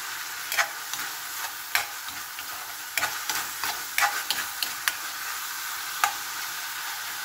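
Ground pork stir-fried in a pan for green beans, a steady close sizzle with scattered sharp scrapes and clicks of the utensil moving the meat, no talking.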